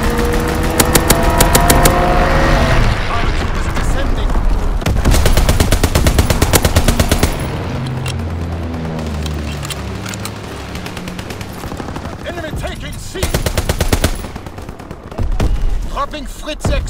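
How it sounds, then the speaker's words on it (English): Strafing run gunfire in the World War II shooter Call of Duty: WWII, in a Domination match on the Shipment 1944 map, pours out as loud, dense machine-gun bursts with engine drone and booming impacts, interrupted by brief gaps. "Ready for strafing run. Hold all objectives. Hold the line. Strafing run inbound."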